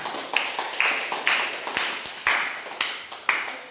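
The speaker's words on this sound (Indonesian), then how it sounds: "Tepuk tangannya." A classroom group of students clapping in a steady rhythm, about nine sharp evenly spaced claps, close and clear with nothing else over them.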